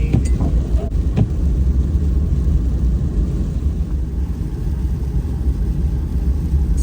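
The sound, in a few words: neighbor's new snow blower clearing the sidewalk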